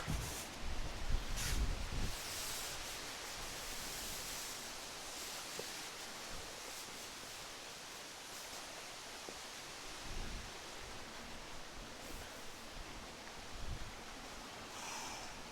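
Wind gusts roar steadily around an autumn urban hammock campsite, a continuous broadband rush with stronger buffets near the start and occasional flaps of a tarp.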